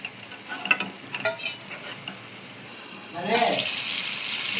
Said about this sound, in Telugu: ఈ వాటర్ అంతా కూడా ఇంకిపోయిన దాకా మనం ఉడికించుకోవాలండి ఆయిల్ అంతా బయటకు వచ్చే వరకు ఉడికించుకోవాలి